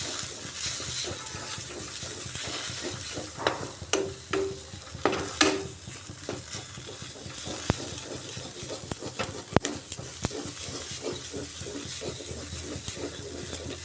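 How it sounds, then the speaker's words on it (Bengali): A spoon stirs and scrapes a stuffing of grains and nuts frying in a pan for stuffed bitter gourd, with soft sizzling and repeated sharp clicks and scrapes of utensil against metal at an uneven rhythm. "এইভাবে বারবার নাড়িয়ে একদম ভাজা ভাজা করে নিতে হবে"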